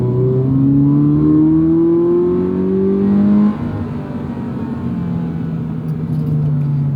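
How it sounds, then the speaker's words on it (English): A Toyota GR86 engine with a torque converter automatic revs steadily under load, its droning pitch climbing before dropping sharply at an upshift and settling into a lower, continuous hum. "So the upshifts in this torque converter automatic are decently quick, but the downshifts do feel a little bit lazy."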